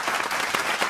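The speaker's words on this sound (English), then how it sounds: "Can we give a round of applause?" A brief burst of audience clapping for guest Tiffany Foxx on a podcast, dense and even across one second.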